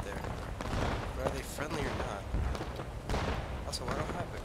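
Musket volleys and scattered rifle fire crackle through a Civil War battle in War of Rights, dense and continuous with loud bursts around mid-clip, while a voice talks over the gunfire.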